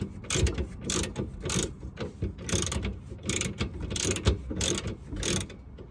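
A hand ratchet turns a 17mm impact socket on a Nissan Micra K11, giving a close series of rapid clicking bursts in an irregular rhythm, with metallic ratcheting and no talk.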